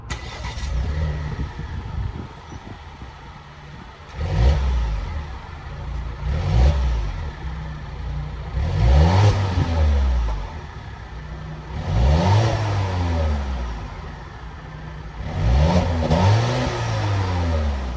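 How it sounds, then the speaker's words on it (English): A 2022 Volvo XC90's 2-liter turbocharged four-cylinder engine starts and revs repeatedly, several sharp rising bursts of throttle that fall back to a steady idle, close by and loud. "let's start this 2-liter turbocharged 4-cylinder up and hear how she sounds"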